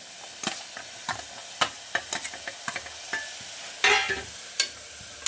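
Crushed garlic frying in oil in a pan of cooking tomato, a steady low sizzle broken by sharp clinks and scrapes of a spoon stirring at irregular intervals, close and fairly quiet, no talking.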